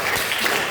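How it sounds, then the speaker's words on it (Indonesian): A brief burst of classroom applause during a chemistry lesson, a short dense patter of many hands clapping at moderate volume. "tepuk tangannya untuk kita semua"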